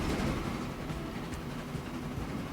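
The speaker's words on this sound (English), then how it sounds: "A happy train." A train runs along the track in the Transport Fever 2 game, a steady rolling rumble with faint rhythmic clatter, fairly close and without talk.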